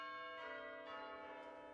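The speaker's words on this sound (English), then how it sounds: "And so these have been chiming like this since, what, the 19th century?" Church bells chime in a Cambridge bell tower, their overlapping ringing tones sustained and blending with fresh strikes landing about every half second, loud and close with no voices.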